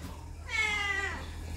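A single clear, close meow from a cat at home, about half a second long and bright, standing alone against a quiet background hum.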